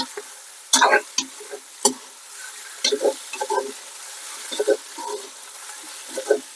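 Eggplant sauté being stirred and frying in a pan outdoors, with a steady sizzle broken by repeated loud scraping and clattering strokes of the spoon against the pan.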